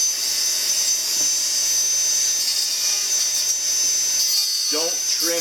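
A rotary tool trims the acrylic of a thumb partial denture, giving a steady, close, high-pitched whine that runs the whole time, with a voice briefly coming in near the end.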